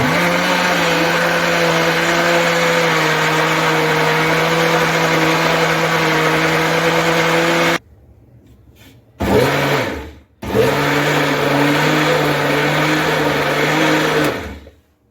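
An electric blender whirs loudly and steadily as flour is mixed into tea cake batter. It cuts off briefly, gives a short burst, then runs steadily again until it stops.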